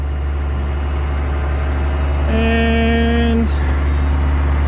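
A ranch vehicle's engine rumbles loudly and steadily at close range while hay bales are dropped, shifting into a higher gear partway through with a brief rising mechanical whine, and someone says a single word.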